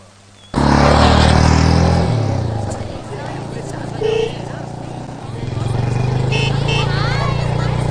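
A motorcycle engine roars up close and keeps running as it rides along, with voices talking over the engine noise.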